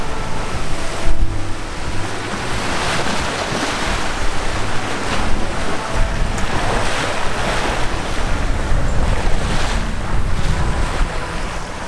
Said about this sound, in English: The winds were already over 20 knots as we left,